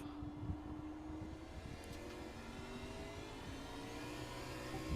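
A car motor in a racing video game hums and revs steadily, a continuous engine whir with gently rising pitch, faint and alone with no talking.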